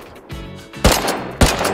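Video game gunshots from a sniper in a wooden watchtower: three loud, sharp shots in quick succession, each with a short ringing tail, close and clear.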